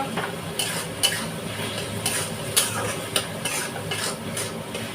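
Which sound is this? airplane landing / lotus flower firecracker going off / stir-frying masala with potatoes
stir-frying masala with potatoes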